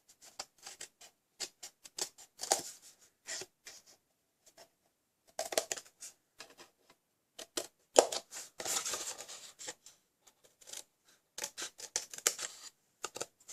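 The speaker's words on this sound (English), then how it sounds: "we're going to snip the two bottom ends off here" Scissors make sharp, quick snips on a paper Christmas ornament, with scattered short cuts and small crinkles in a quiet room.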